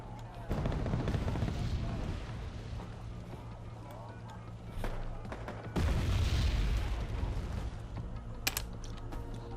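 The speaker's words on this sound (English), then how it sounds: "MLRS being a very potent weapon at the moment." MLRS rocket artillery in Wargame Red Dragon, a dense rumble of launches and booms with mechanical clatter, loud bursts around the middle and a sharp crack near the end, while a voice talks over it.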